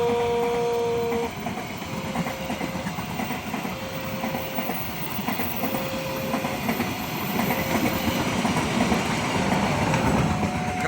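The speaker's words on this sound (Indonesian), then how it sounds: "Kereta api" The Kamandaka passenger train rolls past a railway level crossing with a loud, steady rumble and rhythmic clickety-clack of wheels, while a crossing bell rings in repeating tones throughout.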